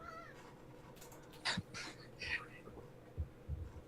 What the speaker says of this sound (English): That's extreme kitty, demanding all the attention